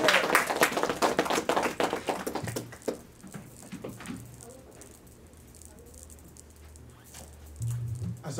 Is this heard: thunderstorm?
no